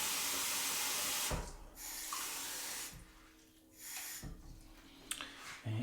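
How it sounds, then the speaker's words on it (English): Hot water runs from a tap or is poured in a steady broadband rush, loud and close, broken by short pauses and ending in a few small clinks. "let's have some hot water."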